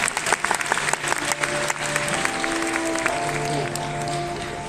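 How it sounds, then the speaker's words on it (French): A convention crowd at a cosplay final applauds a M. Bison cosplayer, dense clapping that starts sharp and settles into a sustained roar, with faint background music tones. "On applaudit bien fort N."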